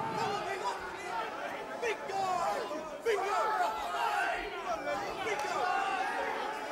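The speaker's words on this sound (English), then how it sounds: "The crowd so energised." Spectators at a Cage Rage 8 cage fight between Anderson Silva and Lee Murray, an energised arena crowd with layered shouts and whistles rising and falling, under loud announcer commentary.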